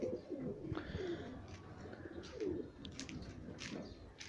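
Pigeons coo repeatedly close by in soft, rolling calls, with faint chirps and rustling around them and no talk.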